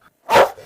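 A dog on a farm lets out one sharp, fairly close bark that lasts under a second. Near-silence comes before and after it.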